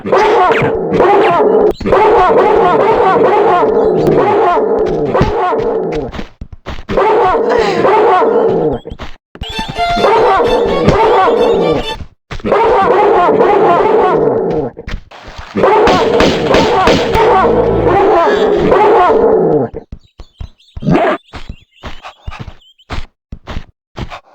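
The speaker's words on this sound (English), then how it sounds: "I don't like being around a dog in this game." Dogs in the Tomb Raider II video game bark loudly and aggressively in rapid, repeated bursts with thumping impacts and footsteps, pausing briefly between volleys before scattered sharp sounds near the end.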